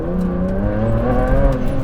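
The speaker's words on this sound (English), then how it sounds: "Oh, this engine." A Ferrari Enzo engine revving under way, a steady sustained drone with rising harmonic tones from inside the car, continuous and fairly loud with light road noise and no talk.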